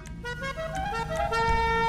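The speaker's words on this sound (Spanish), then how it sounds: "A ver, un claxon, bueno." A car horn sounds in GTA 5, a single sustained tonal honk lasting nearly two seconds, loud and alone with no talk over it.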